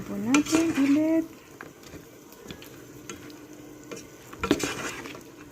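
Fried chicken stirred through sweet and sour sauce in a pan, with a sizzle, clinks and scrapes of a utensil on the pan, plus a brief squeaky sound early on, close by.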